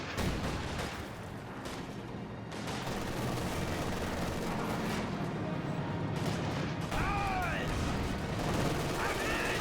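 Battle sounds from Company of Heroes 2, with bazooka blasts and rifle fire against a barbed-wire line, dense overlapping shots and booms under someone talking, plus faint whistling tones toward the end.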